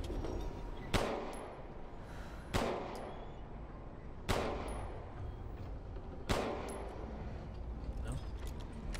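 Four sharp gunshots from Resident Evil Village ring out at roughly even intervals of about two seconds, each loud crack followed by a short decaying tail over a steady game background.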